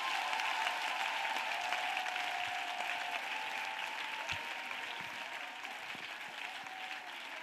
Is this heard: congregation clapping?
yes